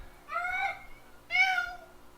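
A cat gives two drawn-out meows, each about a second long, close and clear over a low steady background hum.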